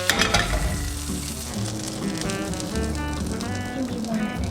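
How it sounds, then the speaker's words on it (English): Blackberry pancake batter frying on a hot griddle, a continuous close hiss of sizzling with a few light taps, no voices. "Let's go fry these up."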